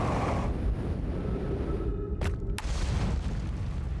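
Explosion in the video game Outer Wilds: a single deep boom with a sustained rumbling roar, loud and close, followed by a couple of sharp bursts as it fades back into a steady low drone.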